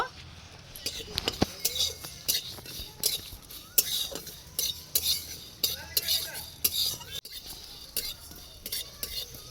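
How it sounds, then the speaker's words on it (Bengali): Coriander, fennel, cumin and four dry red chillies dry-roasting in a pan, heard as a close, busy run of scraping and clinking stirs of a utensil against metal, with a faint murmuring voice in the background. "সব কিছু কোনার মধ্যে দিয়ে ভালো করে ভেজে নেব"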